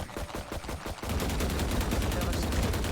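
Rapid automatic gunfire from a video game, a burst of stuttering shots that swells into a dense, sustained stream of fire for several seconds.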